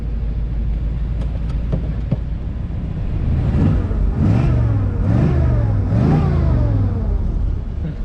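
A 1990 GMC Suburban with a 350 engine idles loudly and close, then revs in three rising and falling bursts.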